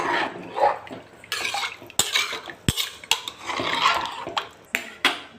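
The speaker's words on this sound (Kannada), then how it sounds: "ನೀರು ಹಾಕ್ಕೊಂಡು ಸ್ವಲ್ಪ ಇದನ್ನ ಮಿಕ್ಸ್ ಮಾಡ್ಕೊಳ್ಳಿ" A spoon stirs rice and water in a metal pot for kuska rice, making close, repeated scraping clinks and sharp knocks against the pot with a watery swish underneath.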